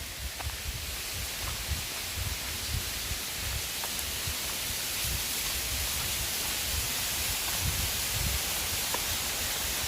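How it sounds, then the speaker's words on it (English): A roadside waterfall in West Virginia pours steadily as a broad, even rush of water, constant and fairly close with no break. "Check out this waterfall."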